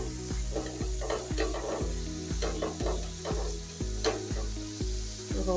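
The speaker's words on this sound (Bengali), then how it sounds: "এখন মশলাটা আমি ভালো করে কষিয়ে নিই।" Spice paste fries with prawns in a pan while being stirred, a soft steady sizzle under rhythmic spatula strokes roughly every half second, fairly quiet and with no one speaking.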